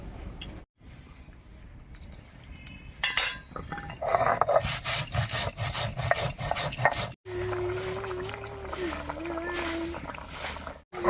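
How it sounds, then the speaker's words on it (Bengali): Roasted coriander and cumin ground on a grinding stone in a village kitchen, heard as rough, rhythmic scraping and knocks of stone on stone at close range, with a voice talking partway through. "এই ফাঁকে আমি ভেজে রাখা ধনিয়া আর জিরাটা বেটে নিচ্ছি"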